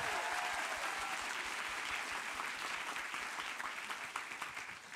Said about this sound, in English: Can we hear a round of applause for all of our students who were so brave today?